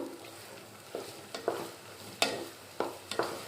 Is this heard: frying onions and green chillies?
yes